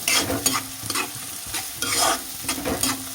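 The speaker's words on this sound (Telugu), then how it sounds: "ఇలాగా తిప్పుకుంటూ ఉండాలండి, లేకపోతే అడుగంటుకోద్ది." Spicy chicken liver fry with green chilies and onion sizzling in a pan while being stirred, a loud close hiss with repeated scraping strokes of the spoon across the pan bottom.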